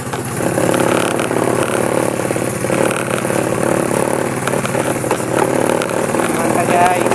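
Motorcycle engine running close by with a steady rhythmic putter and clatter, mixed with background voices and outdoor noise.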